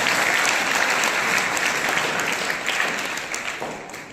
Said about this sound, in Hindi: एक बार जोशी सर का स्वागत करेंगे तालियों के साथ।